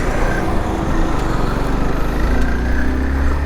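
A motorcycle engine runs steadily with a loud, rough drone on a Bangalore to Chennai highway road trip, mixed with wind and road noise, and no clear start is heard.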